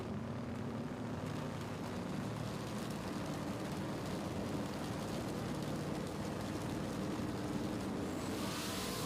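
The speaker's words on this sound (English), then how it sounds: "Bill Lutz starts the engine, shuts everybody up." A drag racing car at a World Cup Finals event starts and holds a loud, steady engine roar, broad and unbroken for the whole stretch, swelling slightly at the very end.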